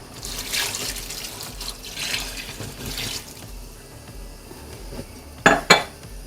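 Water runs from a tap into a pot of seared meat for red rice with meat, a steady splashing pour that fades, followed by two sharp metallic clanks of the pot, close by with no talk.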